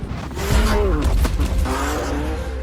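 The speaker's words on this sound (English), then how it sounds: "An 870 horsepower Mustang sanctioned by Ford." A manual Ford Mustang RTR Spec 5 with an 870-horsepower engine revs loud and close, its pitch climbing and falling through quick throttle blips over a rough, steady rumble.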